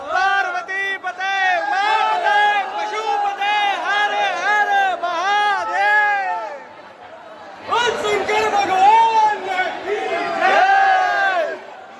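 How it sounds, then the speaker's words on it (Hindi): A dense crowd in the darshan queue at the Mahakal temple in Ujjain chants devotional slogans together, loud, close and sustained in rhythmic waves, with a brief dip before the chanting surges again. "जयकारे लग रहे हैं, हम भी जयकारे लगा रहे हैं भाई"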